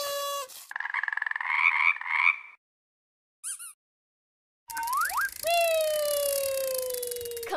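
Cartoon frog croaks in a children's learning game: a burst of repeated croaks, then a short chirpy blip after a pause, followed by a loud sustained sliding tone, all close and clear with no talk.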